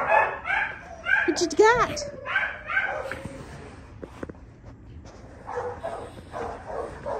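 A white Siberian husky puppy at an adoption shelter gives a mix of short barks, yips and whimpers close by, some rising whines in between, with someone talking warmly over and between the sounds.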